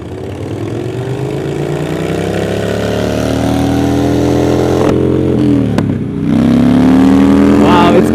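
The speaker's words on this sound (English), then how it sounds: "You want to see me pull wheelie and driving?" A Suzuki GSX-R sportbike engine drones loudly nearby and climbs in pitch as the rider revs it and pulls a wheelie, with a brief dip and sharp throttle change before the engine roars steadily again.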